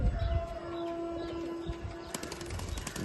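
Pigeons in a loft cooing and fluttering their wings, set against a steady background tone and a few sharp knocks toward the end, with no voices.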